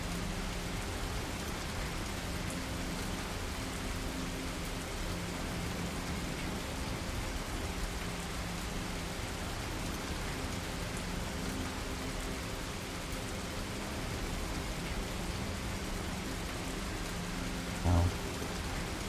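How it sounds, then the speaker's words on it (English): Steady rainfall in the video game 35MM, a constant broadband hiss of falling rain that stays even and fairly close throughout, with a low rumbling undertone and one brief soft knock near the end. "And it starts raining."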